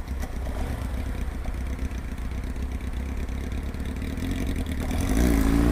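A Honda XRE 190 motorcycle with its original exhaust idles close by with a steady, loud rumble, then swells as the throttle opens near the end.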